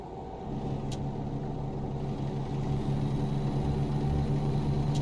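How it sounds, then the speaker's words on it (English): Car engine in American Truck Simulator, a steady mid-pitched engine hum and road drone that swells slightly as a vehicle passes on the road. "Car coming."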